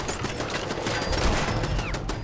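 Rapid automatic gunfire from the Fallout 4 video game crackles in a dense, loud burst that barely lets up, with quick overlapping shots filling the whole moment.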